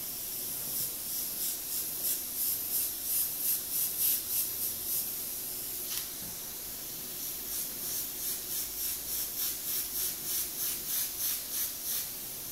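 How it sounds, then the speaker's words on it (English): Short bursts of spray paint hiss around the corners of a paper stencil mask used to transfer artwork, a run of rhythmic puffs close to the mic, a brief pause near the middle, then another steady series of sprays with no talking. "I'm going to take a little bit of paint and spray right around the corners up here"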